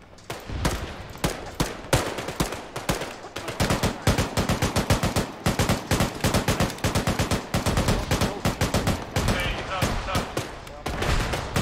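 Heavy gunfire in Arma 3, a tank firing on a building amid rapid bursts of automatic weapons fire, loud and near, continuing in dense rhythmic volleys throughout.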